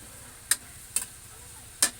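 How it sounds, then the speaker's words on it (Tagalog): Sardines get stirred in a frying pan, with three short metallic scrapes of the utensil against the pan over a faint sizzle in the background. "nandito na yung sardinas. Haluin natin."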